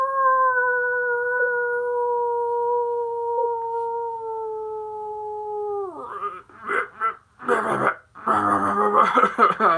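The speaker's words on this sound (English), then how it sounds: "Let's wake it up with a little bit of wolf howl." A single long, steady wolf howl holds its pitch for about six seconds, then drops away, followed by a person talking.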